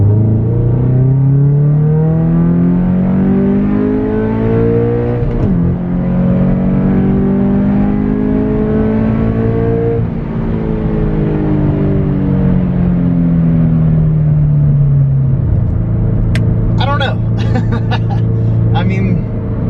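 Subaru BRZ/Toyota 86 fitted with a Speed Factory catted header pulls hard in second gear from 2,500 rpm, engine note rising steadily, a shift near the end, loud and close from the cabin.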